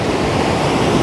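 Rushing water from a waterfall, seen up close: a loud, steady broadband roar that never lets up, heard alone.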